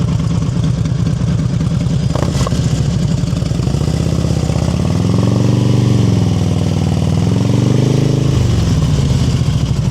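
A motorcycle engine idles and revs gently during slow-speed riding practice in Washington, a loud close steady putter that rises and falls as the clutch is slipped, with a brief clatter partway through.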